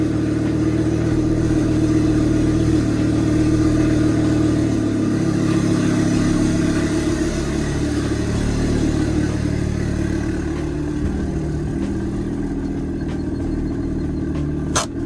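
A turbocharged 2.5-litre VW MK6 Golf R engine runs close and loud in a garage, a continuous rough drone with shifting revs and a crisp exhaust note, easing down toward the end, with no one talking.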